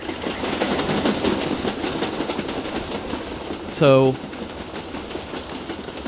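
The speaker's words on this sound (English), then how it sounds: "So I got train sounds." Train sound effect: a low continuous rumble of rolling rail cars with faint clacking, a short whistle-like burst near the end, under a brief spoken word.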